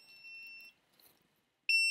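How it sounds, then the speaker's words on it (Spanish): A small piezo buzzer in an Arduino workshop beeps at one fixed, high pitch: a steady tone for about three quarters of a second, a quiet gap, then a louder beep starting abruptly near the end. "Simplemente es un zumbador donde tiene una frecuencia de pitido fija."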